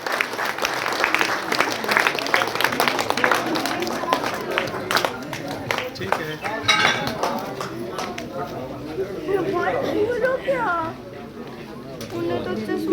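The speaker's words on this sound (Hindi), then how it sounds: "एक बार जोरदार तालियों के साथ कौर सिंह जी का स्वागत कीजिए।" A crowd applauds to welcome MLA Kanwar Singh Yadav at a thank-you visit event, with dense, sustained clapping mixed with chatter and voices throughout.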